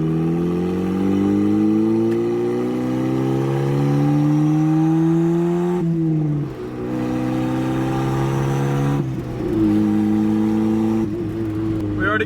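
A turbocharged Mazda Miata with an eBay turbo kit revs hard from inside the car, its engine note climbing steadily in repeated pulls with brief dips between gear changes, loud and continuous under faint road noise.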